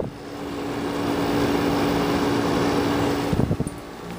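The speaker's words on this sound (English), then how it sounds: "I hear the air conditioner like it's like this." A room air conditioner runs with a loud, steady whirring hum and a sustained tonal drone, rising slightly before a few soft knocks near the end.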